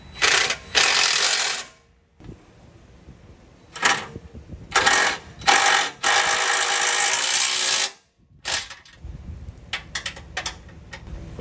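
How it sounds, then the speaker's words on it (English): A hand ratchet tightening the bolts of a Mopar front steel bumper on a Jeep Gladiator Mojave, sharp close clicking in repeated bursts with brief silent pauses between strokes. "For lack of room, I'm going to use a regular old ratchet."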